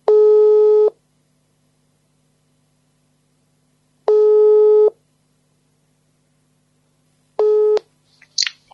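A telephone call tone in an audio drama, three long electronic beeps separated by silent gaps, clean and close, with a short rustle at the end.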